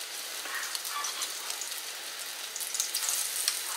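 Squash patties frying in about a quarter cup of hot oil in a pan, a steady soft sizzle and crackle that grows busier toward the end, with no talking.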